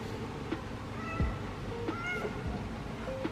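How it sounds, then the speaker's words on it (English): A cat meows several times, in short, fairly faint calls scattered over steady background noise, recorded in a spot where LED rear lights are being installed. "We don't often get the cat, it's only because we've given her food."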